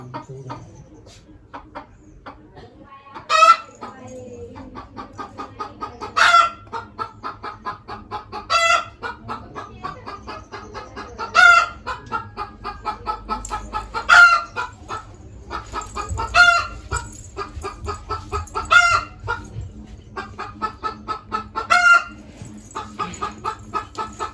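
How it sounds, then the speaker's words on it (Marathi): A hen clucks repeatedly at close range, with sharp loud squawks recurring every few seconds amid lower, steady clucking. "कोंबडी."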